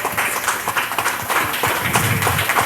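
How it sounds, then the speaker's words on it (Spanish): An audience claps for guests on a local history and legends program from Cuitzeo, giving brisk, close, uneven applause that runs steadily for a few seconds with no talking. "un fuerte aplauso a nuestros invitados del día de hoy"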